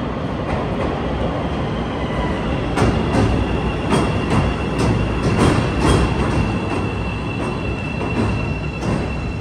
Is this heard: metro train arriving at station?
yes